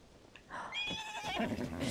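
A horse in Zelda: Tears of the Kingdom neighs, a rising and falling whinny heard fairly clearly over soft game background sound.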